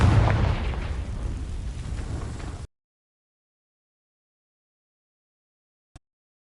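A Confringo fire spell from the Hogwarts Legacy video game bursts and sets dry vines alight, giving a loud, rumbling explosive blast that rolls on for about two and a half seconds and then cuts off abruptly.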